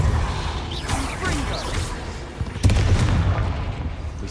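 A Depulso spell lands in Hogwarts Legacy with a heavy boom and rumbling impact partway through, over a constant bed of busy game effects and clatter.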